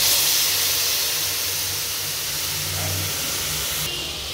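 Ginger, tomato, green chili and whole cumin paste goes into a hot pan for a vegetarian soybean and potato curry, giving a steady close sizzling hiss that eases slightly, with no talking.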